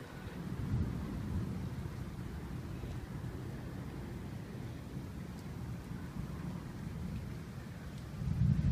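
Steady heavy rain with a deep, continuous rumble of thunder rolling underneath, growing louder near the end, during a storm that flooded the street; no voices.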